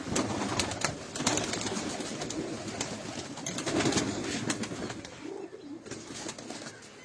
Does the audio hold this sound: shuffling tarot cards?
no